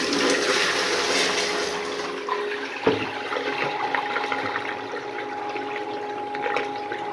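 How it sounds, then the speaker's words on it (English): A miniature 1989 Kohler Highcliff toilet flushes with a steady, rushing swirl of water that continues throughout, with a small knock partway through as the water keeps draining and refilling. "Alright, this is the last flush"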